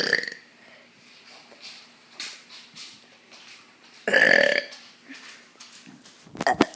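Several loud burps from a man, one long prominent belch in the middle and shorter ones at the start and end, with quieter breathy sounds and faint room noise between them.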